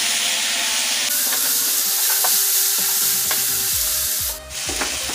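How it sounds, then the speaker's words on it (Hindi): Masala fries with poi saag greens in a pan, making a loud, continuous sizzle and hiss with occasional stirring clatter and a faint tonal hum in the background. "मसाला डाल करके इसको अच्छे तरह से भून रहे हैं।"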